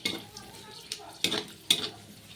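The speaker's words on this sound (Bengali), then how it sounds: "কাজু বাদামটাকেও তেলের মধ্যে ভালো করে ভেজে নেব" Cashew nuts fry in hot oil with a steady low sizzle, broken by three sharp scrapes or stirs of a spatula against the pan, close and fairly quiet.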